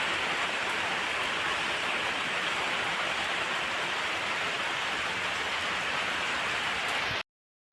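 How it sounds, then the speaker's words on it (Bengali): Heavy rain pours steadily, a dense continuous hiss of drops hammering surfaces close by, unbroken and even until it cuts off abruptly near the end. "দেখো আরও ঝমঝম করে বৃষ্টি নামতে হচ্ছে দেখো"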